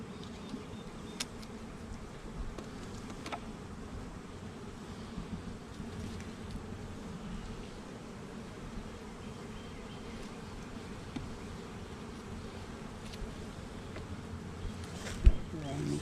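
Honeybees buzzing around an opened hive while a nuc is being made, a dense continuous hum filling the background close by, with a faint knock near the end.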